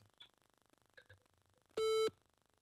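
A single short electronic telephone tone sounds steadily for about a third of a second in a quiet office during a call to a real estate agency, with faint voices before it.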